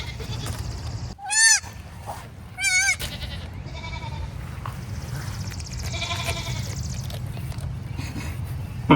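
Goats on a small farm bleat in two loud, wavering calls near the start, followed by fainter bleats and rustling farmyard noise, with no speech over them.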